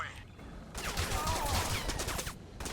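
Rifle fire with heavy recoil in the video game Crysis Remastered comes as a dense, rattling burst of shots at moderate volume, with a voice speaking over the gunfire.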